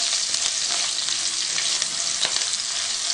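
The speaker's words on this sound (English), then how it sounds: "And our curry leaves. And green chilies. Stir that around just for 30 seconds or so." Curry leaves and green chilies stirred in hot oil in a pan, a loud, continuous crackling sizzle with faint scraping clicks from the stirring, no talking.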